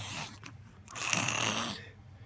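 A young child imitates an elephant with two breathy trumpeting bursts, the second longer and louder, voiced close and alone.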